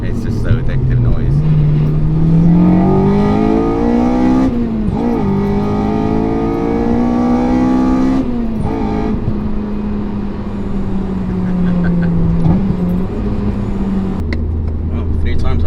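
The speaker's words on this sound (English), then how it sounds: "you can definitely hear that VTEC as well. It's just so addictive noise." A Honda Integra DC5 engine revs hard through rising sweeps into VTEC, pitch climbing and dropping several times, loud and close with a sharp high-rpm howl.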